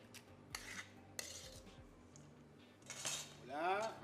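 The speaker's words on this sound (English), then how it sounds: "Put the product in a microwave oven dish." Cooked peas in sauce are spooned into a microwave dish, giving quiet, close clinks and scrapes of a spoon against the dish in a few separate bursts, with no talk.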